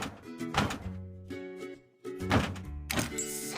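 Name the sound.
taking apart engine parts in a car repair video game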